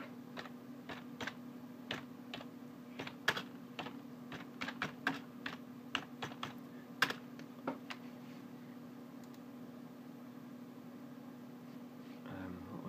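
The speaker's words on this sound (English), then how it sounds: "I'm going to type that in as well." Someone types on a computer keyboard in a quiet room, irregular bursts of soft key clicks spread across several seconds over a faint steady hum, then a brief rustle at the end.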